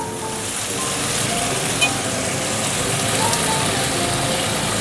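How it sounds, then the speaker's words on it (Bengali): Potato and onion frying in hot oil give a steady, dense crackling sizzle that stays fairly loud and even throughout, with no one talking. "গরম হয়ে গেছে, তা প্রথমে আমি তেলের মধ্যে এই আলু পেঁয়াজটা দিয়ে ভেজে নিয়ে তারপর ঝিঙেটা দিয়ে ভাজবো।"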